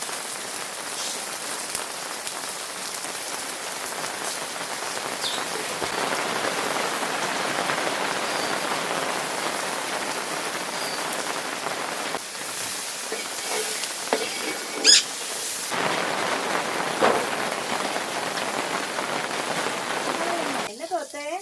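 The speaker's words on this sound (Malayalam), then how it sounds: "അങ്ങനെ മഴ പെയ്തിരിക്കുന്നു." Rain falls on surfaces in a dense, steady patter that fills the whole stretch, with a few louder knocks and splashes standing out near the end.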